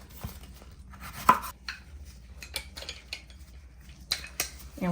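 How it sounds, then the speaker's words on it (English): Fresh lemon cut with a knife on a board, several sharp close knife taps and clicks at uneven intervals over quiet kitchen background, no talk. "In order to bring this dish home, we're gonna cut a fresh lemon."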